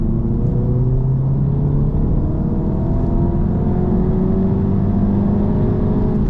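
An engine drones loudly inside an MK3 Audi TT, its pitch rising steadily as it accelerates hard through the revs to 7,000 rpm, with no talking.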